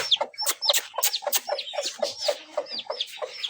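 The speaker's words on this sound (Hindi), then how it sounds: "ये चूजे खोल देते हैं।" Chicks and hens let loose in a village yard, chirping and clucking in quick, overlapping calls, close and fairly loud with no talk.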